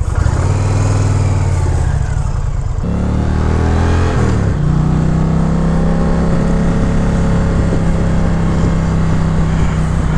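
An Indian Challenger motorcycle roars loudly close by while being ridden, its engine note shifting and rising as it accelerates, steady and continuous without talk.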